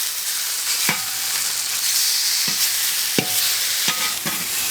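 Pieces of beef steak fry together in an oiled pan, giving a steady, fairly loud broadband sizzle with a few sharp clicks and scrapes of turning, with no talking.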